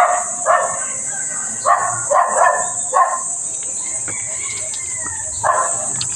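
A dog barks outdoors in a few short, separated bursts over a constant high-pitched background hiss.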